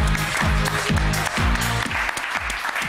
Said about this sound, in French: Un tonnerre d'applaudissements pour Léa.